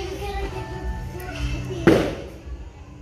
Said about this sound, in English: It's just a New Year firecracker.